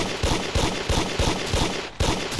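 Rapid bursts of gunfire from a Roblox zombie shooter crack out in a quick, regular rhythm, loud and close, with about eight sharp shots in a little over two seconds.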